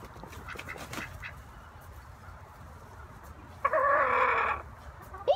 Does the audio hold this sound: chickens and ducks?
yes